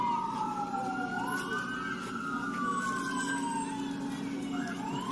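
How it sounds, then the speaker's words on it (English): Ambulance siren wailing in long rising and falling sweeps at a distance during a street riot, steady and moderately loud over a constant low city rumble, with no voices. "There go the ambulance up there."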